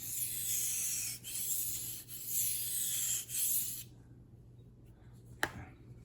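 A knife blade scrapes back and forth across a generic waterstone in a few long, even rasping strokes with short pauses between them. The scraping stops, leaving only faint handling clicks and a low background hum.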